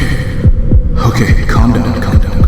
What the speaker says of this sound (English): I can hear my own heartbeat right now.